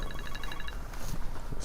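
A mobile phone ringing during a football press conference gives a quick series of bright electronic pulses for under a second, then fades into room noise.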